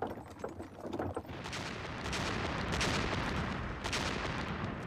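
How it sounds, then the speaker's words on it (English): Huge Soviet artillery barrages on the WWII Eastern Front in 1943, a dense continuous roar of gunfire and booming blasts, loud and sustained with no talk. "Huge Soviet artillery barrages and tank assaults were shredding the German lines."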